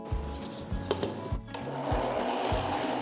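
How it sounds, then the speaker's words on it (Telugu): A mixer grinder churns rice with salt and wheat flour for chapati dough, a steady mechanical whirr with rhythmic low pulses, close and continuous, no voices. "ఈ రెండు ఈవెన్గా గ్రైండ్ అవ్వడం కోసం ఒక్కసారి ఇలా మిక్స్ చేస్తే బాగుంటుంది."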